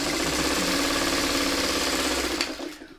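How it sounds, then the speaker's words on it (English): A sewing machine runs steadily as pattern pieces for a zipper project are stitched together, a continuous mechanical whir that stops abruptly near the end. "as you're sewing these together"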